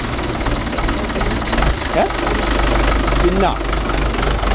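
A Mahindra 575 DI tractor engine runs steadily with a low, knocking diesel rumble during cultivator work on a field, while voices talk over it close by.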